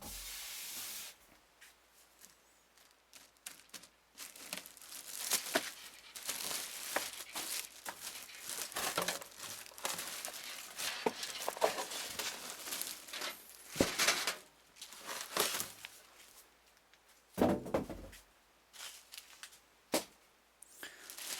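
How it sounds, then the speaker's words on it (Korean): Styrofoam packing pulled out of a cardboard computer case box, heard as a continuous series of close scraping, rubbing and squeaking bursts with no talking. "스티로폼 뺀 거는 박스에다 넣어놓습니다"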